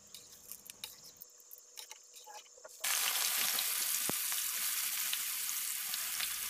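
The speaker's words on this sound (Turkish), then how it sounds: "Kızartma işlemini bütün patlıcanlarımız bitene kadar devam ediyoruz." Hot oil sizzles loudly and steadily as eggplant fries, after a quieter stretch of soft kitchen clatter, a constant frying hiss filling the rest.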